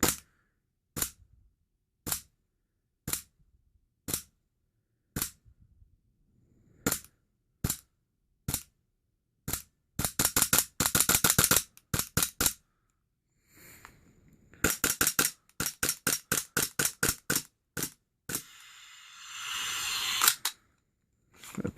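A WE-TECH Big Bird M&P airsoft pistol firing on CO2, sharp close cracks spaced about a second apart, then rapid-fire bursts of quick shots, with a hissing gas sound near the end.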